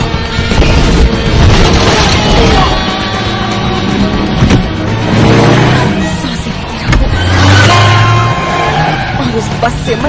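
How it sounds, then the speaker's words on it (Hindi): Busy traffic with car engines revving and accelerating hard, tires squealing and skidding, loud and close in surging waves, with a voice speaking over the roar. "ट्रैफिक नॉइज म्यूट करो।"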